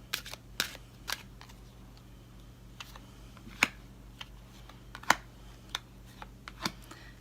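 Tarot cards are shuffled and handled at close range during a love reading, with scattered sharp clicks and light taps at irregular intervals over a quiet, steady low hum.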